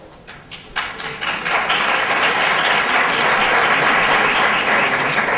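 Audience applause at a book talk in Barcelona, building from scattered claps into a steady, dense ovation that holds for several seconds, fairly close and with no talking over it.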